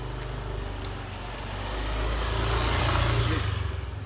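A motorcycle engine idles and runs close by with a steady low rumble, swelling a little louder midway, over constant broadband noise with no clear talk.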